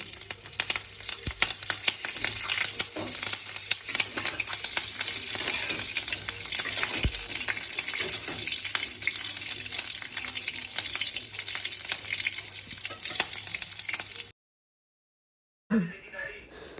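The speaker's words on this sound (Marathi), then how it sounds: "ह्या मिरच्या आता मी परतून घेत आहे" Green chillies for mirchi thecha roast in a pan with a loud continuous frying hiss for most of the stretch, then stop abruptly into silence before a short sound resumes; a voice talks over the cooking.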